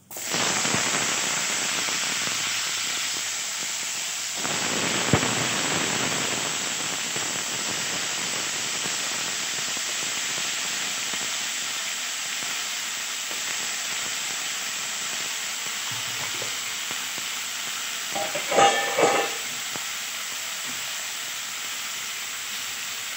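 Potatoes sizzle and hiss steadily in hot oil with panch phoron for a vegetarian soybean-potato posto dish, with a short louder burst of crackling near the end. No one speaks.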